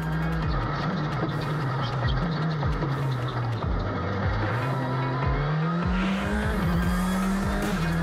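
A Citroën C3 rally car drives a stage at the Rallye le Touquet Pas-de-Calais 2022, its engine droning and shifting pitch through gear changes amid tire squeal and skidding, loud and close throughout.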